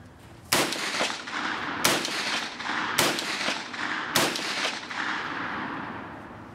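Four loud gunshots from a real M1907 SL Trench Sweeper rifle, fired at a slow steady pace about a second apart, each a sharp blast with a long reverberating tail outdoors.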